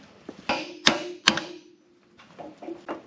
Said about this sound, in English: Let me get a hammer and press it on.